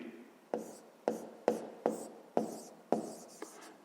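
Pen strokes scratch on paper during a fifth-grade math exercise, a series of about eight short, sharp scribbles at a fairly even pace, close and quiet, with no voices.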